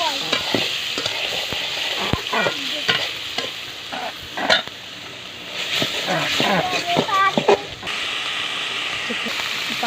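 Onion, garlic and ginger paste sizzles and crackles in hot oil in a pan as it is stirred, a steady frying hiss with intermittent scraping, and a person talks over it.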